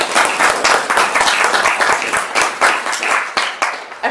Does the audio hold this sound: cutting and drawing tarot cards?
no